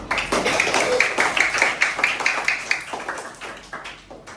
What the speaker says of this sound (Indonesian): Kasih tepuk tangan buat Rabia.